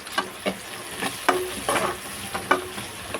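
New onions with turmeric fry for curry in a pan, a soft continuous sizzle punctuated by several crisp spatula scrapes and taps in an uneven rhythm, close up and without speech.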